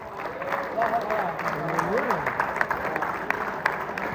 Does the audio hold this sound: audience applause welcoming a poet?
yes